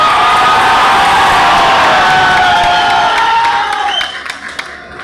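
A speech crowd in Sasaram, Bihar erupts in loud, dense cheering, whooping and clapping that sounds close and roaring, easing off slightly toward the end as scattered claps and shouts remain.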